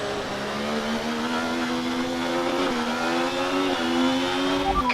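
F1 race car engine from the video game F1 24, revving steadily at high pitch throughout during an overtake at the Sao Paulo Grand Prix, with gear-shift dips and a continuous loud whine.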